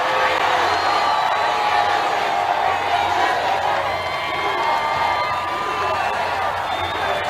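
A large crowd at a political rally in Miami, Florida roars and cheers continuously, a loud, dense wash of voices and whoops that never lets up.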